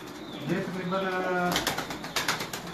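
Pigeons at a keeper's loft coo and flutter close by, with a burst of wing flapping and scuffling near the end while someone talks over them.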